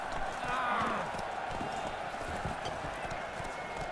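Geralt's horse Roach gallops in The Witcher 3, hooves clip-clopping in a quick, steady rhythm close by, while a voice speaks over the running hoofbeats.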